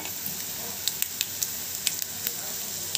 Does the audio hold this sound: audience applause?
no